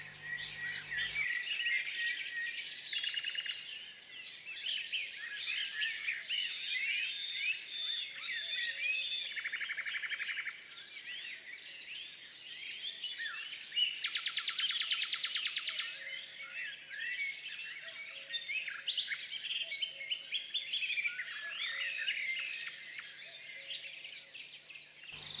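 Garden birds chirp and sing continuously in a valley setting, many overlapping bright calls and trills, close and clear, no talking.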